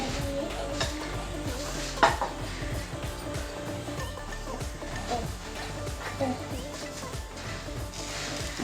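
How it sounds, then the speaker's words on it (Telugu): Beaten egg poured onto a hot oiled pan for a fluffy omelette, a steady close sizzle with occasional utensil clinks and scraping, while a person talks over it throughout. "ఇప్పుడు మనం గిల కొట్టుకున్న ఎగ్ ఉందా అది అయితే దీని మీద వేయాలి"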